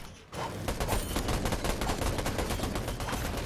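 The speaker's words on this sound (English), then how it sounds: "They're shooting their build." Rapid bursts of gunfire in the Fortnite video game, a dense fusillade of shots crackling steadily for several seconds, close and loud with no talk over it.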